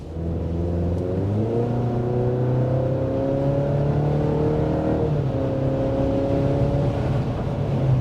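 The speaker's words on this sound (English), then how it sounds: "they have tuned this 4-cylinder to actually have a very nice, meaty tone to it" Turbocharged four-cylinder engine of a 2023 Chevy Colorado Z71 pulling steadily while driving, a smooth droning tone that rises through gears with a brief dip and shift, heard from inside the cabin with no talking.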